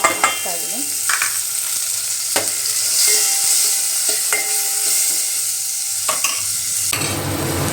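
Tomato tossed into a hot pan on a home kitchen stove, frying with a steady close sizzle, broken by several sharp clinks and scrapes of stirring.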